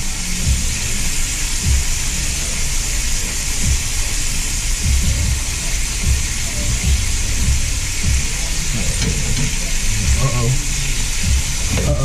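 Stuffed steak frying in hot oil, a steady loud sizzle with popping and crackling spatters throughout, with a few faint low knocks underneath.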